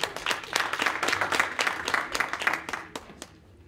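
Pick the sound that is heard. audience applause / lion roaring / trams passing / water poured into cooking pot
audience applause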